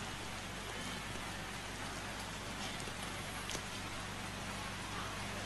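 Steady night rain falls at an outdoor religious gathering, a dense even hiss of drops with a faint low hum beneath and no clear voices.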